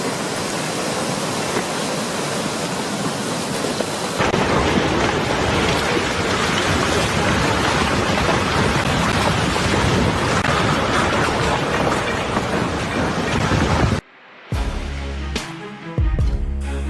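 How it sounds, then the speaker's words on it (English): Avalanche roaring down as a snow river at Hüttinger Alm in the Alps, a loud, dense, continuous rushing roar that intensifies after a few seconds and then cuts out abruptly near the end. "The sight of the roaring snow river in the Alps is truly spectacular"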